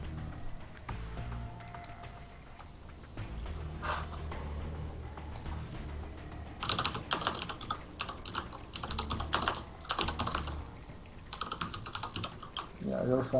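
Fast typing on a computer keyboard during an esports league match, dense rapid clicking bursts that run steadily and grow busier later, with a faint voice underneath.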